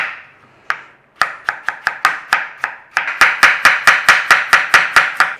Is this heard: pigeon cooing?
no